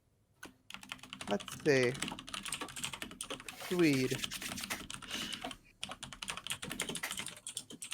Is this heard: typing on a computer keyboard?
yes